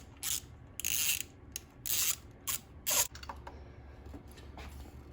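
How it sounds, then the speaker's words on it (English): A ratchet wrench loosens worn spark plugs from a BMW E46 engine, giving several loud bursts of rapid clicking separated by short pauses, with no talking. "We are going to take out the bad plugs and then put in the new ones."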